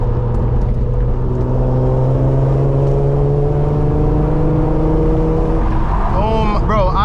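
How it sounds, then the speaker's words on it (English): A lowered car riding on Megan Racing coilovers drives along with a steady, loud engine drone and road rumble filling the cabin, engine tones rising gradually as it accelerates, with a brief wavering whine near the end. "The car drives so fucking smooth"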